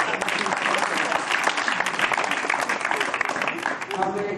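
Applause from an audience at a Hindi poetry recital, steady and dense clapping throughout with crowd noise and some voices mixed in.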